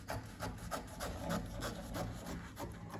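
Scissors cut through dress fabric for a balloon sleeve, giving close, rhythmic rasping snips at a steady pace, with no talking.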